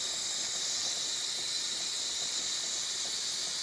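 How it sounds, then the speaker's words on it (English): Steam wand on a Jura Impressa espresso machine frothing milk, a loud, steady, close hiss with no break, heard alone. "Here you select the steam, turn the dial, and then you get your milk."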